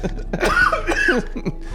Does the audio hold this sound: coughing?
yes